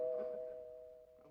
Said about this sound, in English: Get the front door, will you, Dennis?